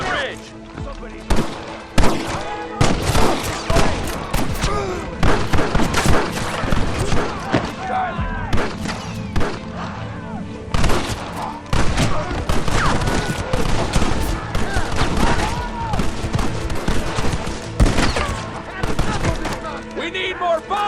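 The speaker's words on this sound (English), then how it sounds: "Gatling gun, use it!" Gatling gun fire in the Red Dead Redemption video game: dense, loud, rapid bursts of shots rattling almost nonstop for about twenty seconds, with other gunfire and game voices mixed in.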